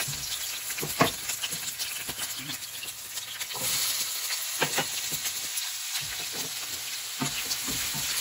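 Garlic and white onion fry in a pan with a continuous soft sizzle and hiss, broken by occasional stirring clicks and scrapes, close and fairly quiet.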